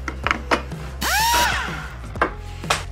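A power tool makes a short, loud whining cut of about half a second while putting a 30-degree bevel on a piece of wood, set between a few sharp knocks and taps from handling the workpiece.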